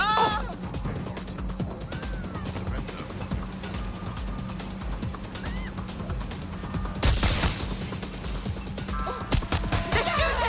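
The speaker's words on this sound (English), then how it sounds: "They're shooting!" Gunfire from the video game Watch Dogs Legion crackles in scattered bursts over a busy game soundscape with vocal sounds, swelling into a denser, louder volley near the end.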